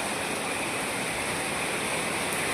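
Heavy rain pours down while water rushes through overflowing drains beside a house, making a dense, loud, unbroken wash of noise from start to end.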